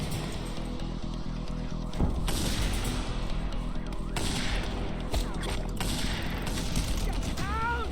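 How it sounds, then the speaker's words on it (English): Rockets launch and explode in Just Cause 2 amid rattling gunfire and mechanical clatter, a series of punchy blasts and crackling bursts at moderate volume with a brief rising whine near the end. "How you like them rockets, huh?"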